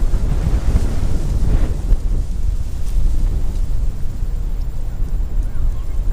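Steady, loud wind buffets the microphone outdoors by the water while a fishing rod is cast with a DC baitcasting reel, a continuous low rumble with surf-like whooshing and no voices.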